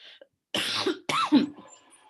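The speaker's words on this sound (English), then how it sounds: "I'm sorry, I have a bit cough." A person gives a couple of short, throaty coughs, close and fairly quiet, with a brief throat-clearing catch between them and no speech.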